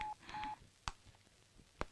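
Phone dialing in a dubbed action movie, with a couple of short beeping keypad tones followed by two sharp clicks, heard fairly quietly against low background noise.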